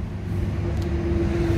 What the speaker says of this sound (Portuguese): Pegou o carro